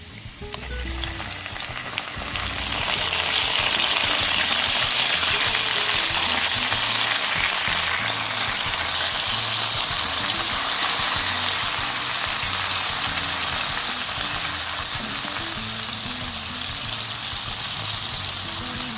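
Grated tomatoes frying in a hot pan for a Kenyan-style pilau with chilli chutney, a loud, even hiss that surges as they hit the pan and then holds steady and close, with no talking.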